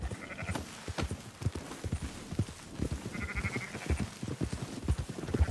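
A flock of sheep bleats repeatedly in Red Dead Redemption 2, several wavering calls near and far over the steady clop of hooves and livestock movement, no speech.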